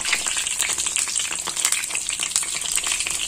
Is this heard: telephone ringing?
no